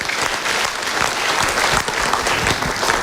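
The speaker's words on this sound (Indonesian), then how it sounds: "Kita berikan tepuk tangan dulu." Loud sustained applause from a large studio audience at a motivational talk show, dense clapping filling the room evenly throughout with no talking.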